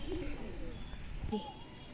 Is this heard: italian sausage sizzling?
no